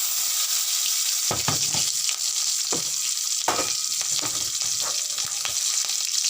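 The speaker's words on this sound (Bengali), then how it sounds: "এবার এই মাছ ভাজা তেলের মধ্যে প্রথমে দিয়ে দেবো কালো জিরে ফোড়ন তারপরে দিয়ে দেবো দুটো চেরা লঙ্কা" Nigella seeds and split green chillies sizzle in hot oil left over from frying fish, a steady close crackle with several sharper spits and pops as the spices hit the pan, no voices.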